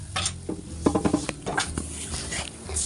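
Pav bhaji vegetables being stirred into gravy in a pan, with close, wet, patting and scraping sounds from the spoon in an uneven rhythm over a steady background hum.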